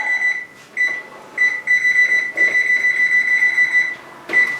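An oven control panel beeps as it is set to 500 degrees: a series of loud, clear electronic tones, some short and some held, with a final beep after a brief pause.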